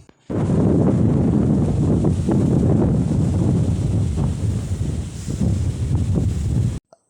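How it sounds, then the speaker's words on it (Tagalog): Strong, steady wind in the Philippines roars into the microphone with a constant low rumble, leaves rustling and gusting throughout, loud and continuous until it cuts off. "maririnig nga sa video ang pagsayo ng mga dahon sa lakas ng hangin"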